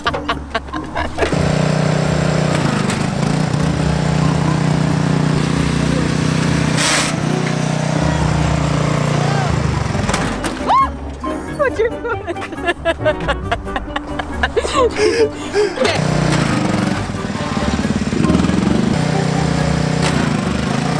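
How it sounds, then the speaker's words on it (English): A turbocharged riding lawn mower engine drives and revs steadily, dropping briefly then surging back, loud and close throughout, with a lighter rider aboard doing burnouts. "Now it's time for Brandy to get on the mower and see if she can do a wheelie."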